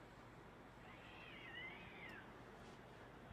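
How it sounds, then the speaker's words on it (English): A distant cat lets out a drawn-out, wavering scream over a low background hiss, with no talking. "You hear that cat?"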